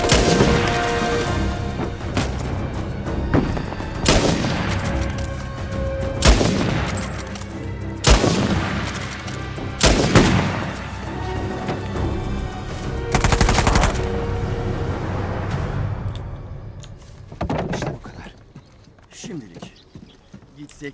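Video game gunfire from Uncharted 4: sharp, loud bursts and single shots crack out at irregular intervals over a busy action soundscape, with someone talking between the volleys.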